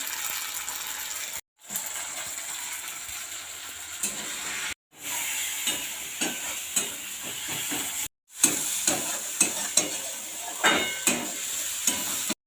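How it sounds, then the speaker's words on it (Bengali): Chicken curry spices being stir-fried in a pan, with a steady sizzling hiss and repeated scraping stirs, broken by a few short silent gaps. "সমস্ত মশলা ভালো করে কষিয়ে নেবো এভাবে।"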